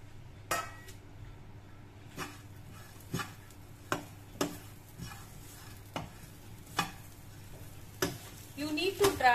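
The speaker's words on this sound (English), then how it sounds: "You need to dry roast these for about 5 to 7 minutes by occasionally stirring it like this." Spoon stirring coconut and spices dry roasting in a pan for a Goan crab masala, giving sharp scrapes and taps at a steady, occasional rhythm over a faint sizzle, close up.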